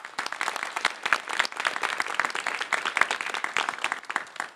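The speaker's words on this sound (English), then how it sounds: "I ask you to join me in a round of applause for our panelists" A round of applause from the audience at a GW Law Review symposium on police violence and the Fourth Amendment, honoring the panelists: dense, steady clapping from many hands that stays loud and even throughout, with no talking over it.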